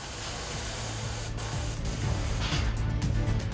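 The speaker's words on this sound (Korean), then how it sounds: "사출로 한 번에 여러 색을 뽑아낼 수가 없기 때문에 페인트 작업을 통해 다양한 색을 입히는 건데요. 스프레이 작업인데요." Spray guns hiss steadily as workers paint injection-molded plastic toy parts in a Korean toy factory, a loud continuous spray with brief pauses and bursts over a low mechanical hum.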